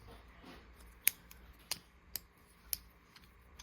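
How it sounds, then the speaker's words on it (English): Small scissors snip four times at irregular intervals, each a crisp, close metallic click over a quiet background. "And it came with these little Decoyu scissors."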